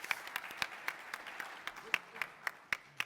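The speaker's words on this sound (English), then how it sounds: "round of applause" A plenary session audience at a conference gives a short round of applause, heard as sparse individual claps. The clapping is faint and distant, with a voice in the background.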